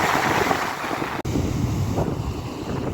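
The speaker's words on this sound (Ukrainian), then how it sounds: "А море ж яке сьогодні красиве." Sea waves and strong wind on the Black Sea coast at Odesa, a steady loud roar of surf with heavy wind buffeting the microphone and one brief dropout, no talking.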